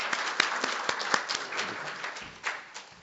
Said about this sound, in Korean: 큰 박수를 맞으시기 바랍니다.